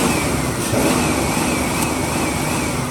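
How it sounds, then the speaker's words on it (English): A 2003 Ford Explorer SportTrac XLT 4x4 engine revs hard and holds near its rev limiter, a loud, steady, close mid-pitched roar with slight wavering and no voices. "It's got a rev limiter, so you can only go so high, but I still like to do that so you can hear it a little higher."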